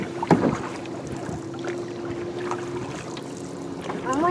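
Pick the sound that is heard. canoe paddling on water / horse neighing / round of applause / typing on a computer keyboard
canoe paddling on water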